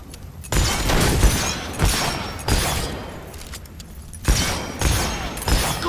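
Gunshots ring out at a shooting gallery in the video game Fable 3, several loud cracks spaced irregularly over a constant clattering, busy game background.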